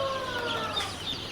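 Multicolour tiger chicken chicks peep in thin, high chirps, a few close overlapping calls over a low background hum.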